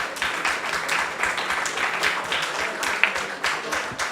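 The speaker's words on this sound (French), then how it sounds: "Alors on peut applaudir Christelle Favetta" Applause from an audience at an evening dinner event, steady dense clapping from a crowd that stays even throughout, with a few sharper individual claps standing out near the end.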